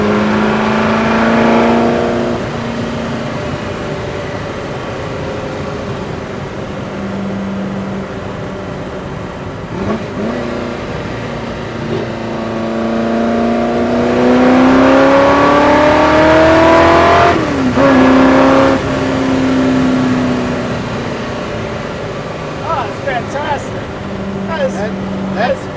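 Superformance GT40 MKII engine revving loudly and rising in pitch through long sweeps, dropping back and climbing again, with a voice talking over parts of it.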